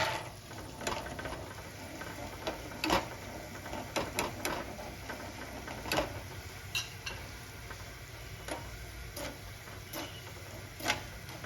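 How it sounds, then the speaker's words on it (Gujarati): Cashews sizzle quietly in hot oil, with scattered crackles and pops over a steady low frying hiss. "હવે આપણે જે કાજુ લીધા છે એ તળી લઈશું"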